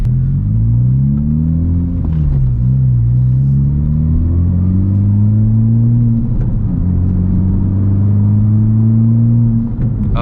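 A 2019 Honda Civic Type R in sport mode accelerates hard, its deep engine rumble climbing steadily in pitch, dropping at gear changes and climbing again, loud and close from inside the cabin with no talking.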